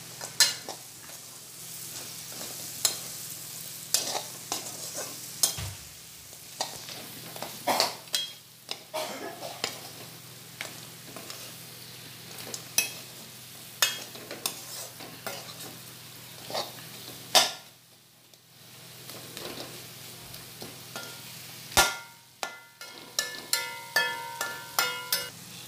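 Fried chicken is stirred into a roast masala in a pan, with a spoon scraping and clinking against the metal over a low sizzle, in irregular strokes throughout.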